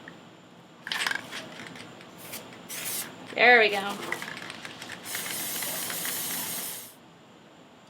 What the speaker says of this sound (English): And I'm going to spray them. Hopefully my Plasti Dip isn't sealed up.